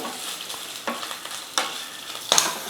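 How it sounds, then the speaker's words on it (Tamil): Green chillies and grated ginger sauté in a hot pan, with a steady sizzle broken by a few stirring scrapes close by. "பச்சை மிளகாவும் இஞ்சிலாம் வந்து நல்லா வதங்கட்டும்"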